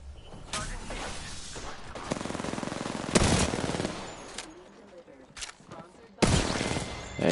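Rapid automatic gunfire from an Apex Legends match crackles in repeated bursts, with several sharp loud shots standing out over a continuous stream of firing. A player talks over it.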